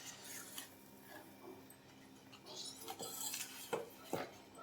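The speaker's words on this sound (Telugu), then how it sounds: "బాగా మిక్స్ చేసుకోవాలండి" Spoon scraping and clinking against a pot as mango rava kesari is stirred over a medium flame, with soft irregular scrapes building to a few sharper knocks near the end.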